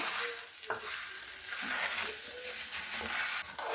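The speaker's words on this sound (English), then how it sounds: "you just want to stir that and get that all covered in the oil" Orzo is stirred and toasted in hot oil in a skillet, giving a bright continuous sizzle with a few scraping stir sounds, close and fairly loud with no talk.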